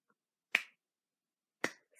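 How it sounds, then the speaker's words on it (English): A slow, deliberate clap: two crisp, sharp hand smacks about a second apart, each close and isolated against silence, with a faint hint of a third at the very end. "Slow clap."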